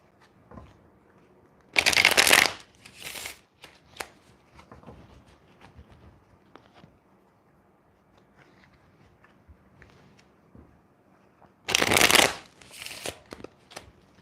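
Playing cards are riffle-shuffled twice, each a quick, crisp burst of fluttering snaps followed by a few taps, with quiet rustling between.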